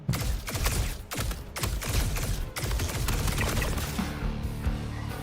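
Rapid bursts of gunfire in Star Citizen PVE combat at an Onyx facility, loud and sustained, with dense repeated shots running through most of the stretch.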